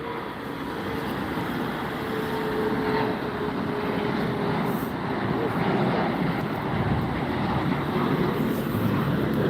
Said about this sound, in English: We got a plane taking off